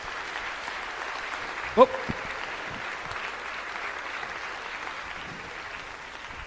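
An audience at a talent show grand finale gives a steady, moderate round of applause, with one sharp exclaimed voice early on rising briefly above the clapping.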